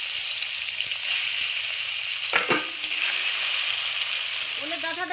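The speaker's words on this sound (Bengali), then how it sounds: "আলু ভাজা তেলের মধ্যে আমি মাছগুলো সব ছেড়ে দিচ্ছি" Small mourala fish sizzle loudly in a hot kadai of oil already used for frying potatoes, a steady close crackle with a brief utensil clatter midway and a voice speaking near the end.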